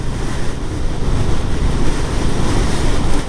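Steady wind roars across the microphone while riding a Royal Enfield Classic 350 motorcycle in blustery, rainy weather, a dense continuous rush with low buffeting throughout and no talking.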